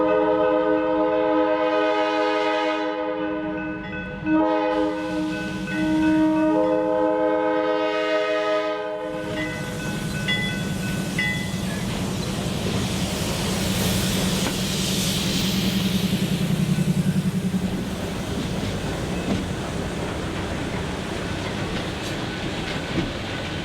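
A freight train switching railcars at a transload spur, with a loud sustained horn blast from a locomotive followed by steady rumbling and clanking of cars moving along the track.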